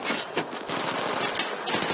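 Gunfire in the video game Battlefield 3, a short, rapid burst of automatic shots with dense rattling reports, loud and close, with no speech over it.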